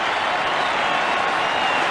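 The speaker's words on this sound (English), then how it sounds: "rise to their feet and cheer one of the greatest batsmen of all time" Eighteen thousand cricket spectators at the SCG in 1984 cheer and applaud Greg Chappell in his final Test innings, a dense, steady roar of clapping and voices filling the ground without a break.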